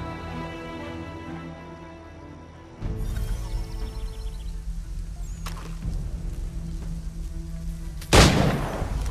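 A battle in Assassin's Creed 3 opens with a quiet ambient stretch, then a sudden volley of gunfire breaks out. Shots rumble on and a sharp, loud blast lands near the end.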